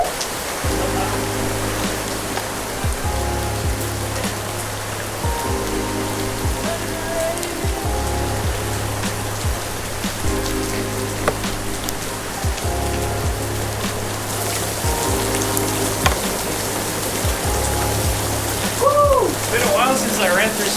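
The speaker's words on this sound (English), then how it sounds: "Rain." Steady rain patters on a boat in a constant hiss, with a low engine-like hum droning underneath throughout.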